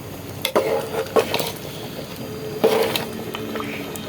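Chana dal cooking with beef head meat in a pot: close spoon scrapes and stirring clatter over a soft steady sizzle, with sharp clanks recurring a few times.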